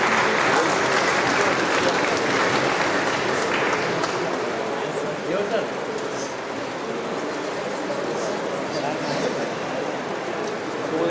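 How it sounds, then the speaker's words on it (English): Loud, sustained applause from a large crowd at a medical college golden jubilee reunion, dense clapping that holds steady throughout. "Big round of applause for a"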